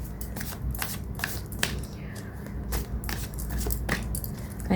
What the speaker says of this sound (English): I have shuffled the cards.